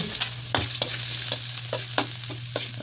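Garlic sizzles in oil in a pan while a utensil stirs it, with sharp scraping clacks every half second or so over a steady fry and a low hum, no talking.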